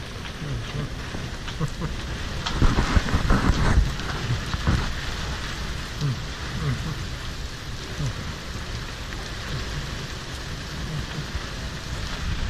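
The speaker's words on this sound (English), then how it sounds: "We're having a little squall going on here." Steady rain pours down on a small cruiser boat with a low rumble of thunder rolling through early on, continuous and fairly loud throughout.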